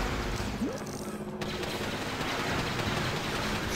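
Ship lasers firing during a gunship battle in the Lego Star Wars Episode II video game, a dense, steady barrage of rapid shots with a brief dropout near the start.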